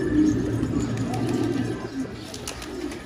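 Pigeons at a hidden nest with young birds give low, soft cooing close by, continuous and steady over faint background noise.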